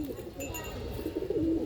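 Pigeons coo nearby at a pigeon loft in Pandharpur, a soft, low, repeated burbling call that runs through the moment alongside faint background voices.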